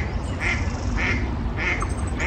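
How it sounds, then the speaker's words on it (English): A duck quacks loudly and repeatedly beside a river in spring, four or five evenly spaced calls standing out over steady outdoor background noise. "really is a noisy duck"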